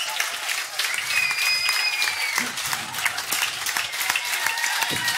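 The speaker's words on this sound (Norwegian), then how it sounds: "gi en stor applaus til kveldens første gjest" Steady audience applause from a live talk-show crowd welcoming the first guest of the evening onto the stage, a dense, even wash of many hands clapping with a faint whistle briefly rising above it.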